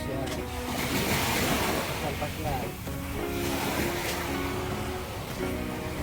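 Morning ocean waves at a beach, a continuous broad wash of surf with wind on the microphone, while people talk and voices carry over the water throughout.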